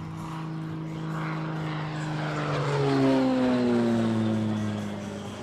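A propeller airplane at the Asas do Vale air show in Brazil passes overhead, its engine drone swelling to a peak midway and then fading with a falling pitch, heard alone without speech.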